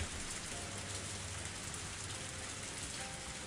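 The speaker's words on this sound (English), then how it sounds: "My body exposed to the cold rain." Cold rain falls steadily in a scene from the Higurashi visual novel, a dense, even hiss of drops on surfaces that holds throughout at low volume with no other sounds.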